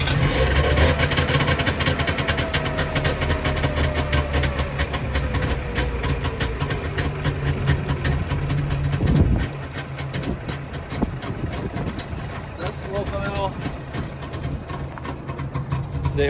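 A 1990 Trabant 601 with a 600cc two-cylinder two-stroke engine idles just after a cold start, a loud, close, steady putter with a rough, uneven rhythm that eases slightly partway through.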